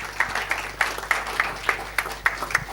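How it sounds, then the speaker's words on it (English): A small audience applauds a panel discussion facilitator, a light, sparse patter of claps at a steady rhythm, moderately close in a hall. "please give a round of applause to our facilitator"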